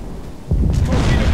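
A torpedo strikes a ship in the submarine game Silent Hunter 4, setting off a sudden loud, low boom that rumbles on without a break after the hit.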